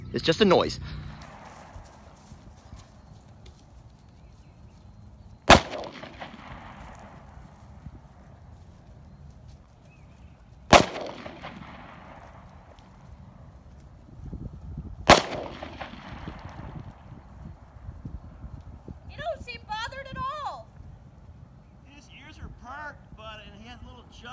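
Sharp gunshots ring out one at a time at roughly five-second intervals, each loud crack trailing into a fading echo, fired during noise-tolerance training for a horse, with soft hoof shuffles and wind noise between shots and a few words spoken near the end.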